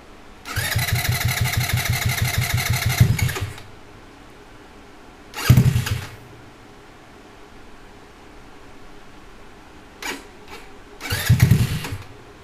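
A GY6 scooter engine on a home build, running without brakes, fires up in a loud revving burst, dies back to a low idle, then revs again in shorter bursts with quiet idling gaps between.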